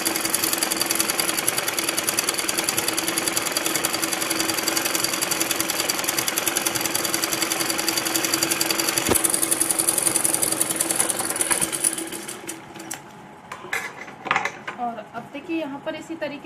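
A sewing machine runs continuously and loud, stitching straight seams on salwar fabric, a steady mechanical whir that stops near the end, leaving scattered clicks and handling noise.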